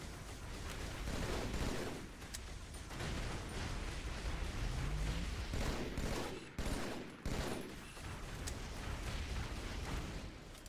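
Turret gunfire in a Halo game speedrun: dense, continuous rapid bursts of shots and impacts, loud and close, with a few brief gaps and no talking.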